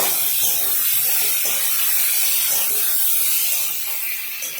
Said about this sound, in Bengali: 10-12 কোয়া রসুন আমি থেতো করে দিয়েছি আর গোটা রসুন 4টা দিয়ে দিলাম। দিয়ে ভালো করে এগুলোকে ভেজে নেব।